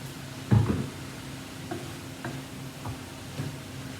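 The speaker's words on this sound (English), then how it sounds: "And stir it in." A spoon stirs egg roll in a bowl with whole grain brown rice and soy sauce, making a few soft, scattered scrapes and taps against the dish over a quiet kitchen background.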